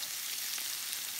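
Onions fry in a hot pan with a brief, steady, fairly soft sizzling hiss, close and even, with no voices.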